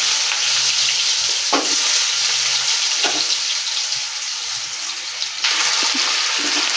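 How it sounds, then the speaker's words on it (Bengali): Potatoes dropped into hot oil with a five-spice tempering for an aloo fry, giving a loud, dense, continuous sizzle with a few stirring knocks; the frying swells sharply louder near the end. "আর আমি তেলে ফোড়ন দেবো 5 ফোড়ন। তারপর আমি আলুগুলো সব দিয়ে দেবো একে একে।"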